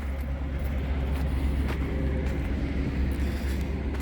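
Interstate 75 traffic flows behind a battered truck lot on an outer road, heard as a steady low roadway rumble with a few passing vehicles swelling and fading, fairly faint and distant, no speech.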